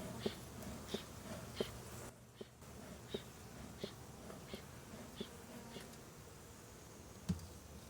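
A faint, steady buzz of honey bees at a hive being smoked, with soft regular puffs or clicks repeating about every half second, heard close and quiet with no talking.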